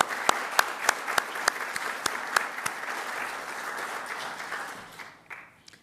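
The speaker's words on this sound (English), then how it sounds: "So let's give Rudy a round of applause." A crowd at a Pentagon Pride event applauds for several seconds, with steady dense clapping and a few sharp louder claps near the front, fading out toward the end.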